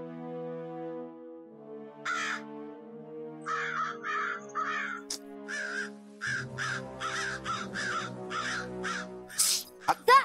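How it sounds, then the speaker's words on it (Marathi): A crow caws repeatedly nearby in a rhythmic series of harsh calls over soft background music, growing busier toward the end. "अगं कावळा ओरडतोय बघ."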